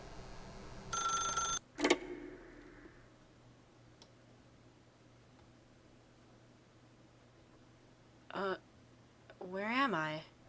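Telephone ringing in The Stanley Parable game: one early burst of electronic ringing, loud and close, followed by a short clunk as the receiver lifts. Quiet hum follows, and a voice speaks toward the end.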